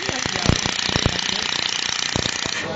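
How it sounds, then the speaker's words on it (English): A 500W handheld laser pen welder runs continuously at a high pulse frequency, giving a steady buzzing, rapidly ticking drone with sharper crackling bursts throughout. "then we can set the frequency higher so that we can do continuous welding"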